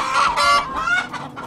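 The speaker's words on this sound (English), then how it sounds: "I have 100 chickens, and so they're around all the time" Chickens on a farm flock of around a hundred birds, close, loud clucking in quick uneven bursts, with a few drawn-out squawks and no voices.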